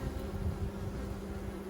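Honey bees in an open hive with honey and sugar syrup: a dense, steady buzzing hum, close and continuous for a short moment, with no voices.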